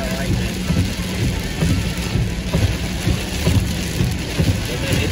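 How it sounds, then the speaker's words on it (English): Heavy rainstorm pouring down outdoors in Baltimore, with dense continuous rain hiss and low rumbling that fits thunder or passing traffic, steady and loud throughout with no clear pauses. "The rainstorm is picking up big time."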